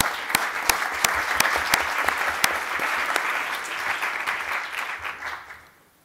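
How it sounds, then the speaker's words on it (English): A conference audience in Milan applauds the speakers with steady, dense clapping and a few sharper individual claps standing out, before the sound fades away toward the end. "let me conclude by thanking both speakers with a big round of applause."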